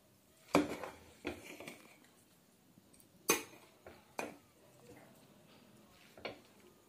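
Metal spoon scraping and clanking against a pot while mixing village-style biryani with ghee, several sharp irregular clinks and scrapes spaced across the moment, fairly quiet with little background.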